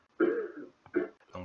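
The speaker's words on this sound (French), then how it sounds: "Donc là, je tousse, j'enlève." A short throat-clearing cough followed by a second smaller cough, close and isolated against silence.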